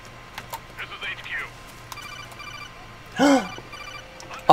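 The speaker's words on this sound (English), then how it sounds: "A phone call?" An in-game phone call rings in Metal Gear Solid 4: Guns of the Patriots, a few short electronic chirps and warbling tones scattered across a few seconds over a faint background hum.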